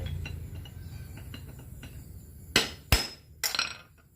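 Metal hammer strikes on a part of a 4WD differential axle during wheel fitting: a few sharp, loud clanking blows close by, following a stretch of quieter low rumble and light taps.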